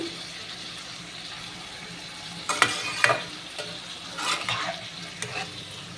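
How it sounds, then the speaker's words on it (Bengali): Garlic fries in a hot kadai with a steady low sizzle. A few louder scraping and stirring clatters sound near the pan, with no voices. "দেখো রসুনটাকে দিয়ে দিলাম এবার এটা ভাজা হবে কড়া করে বেশ সুন্দর ভাজা হবে"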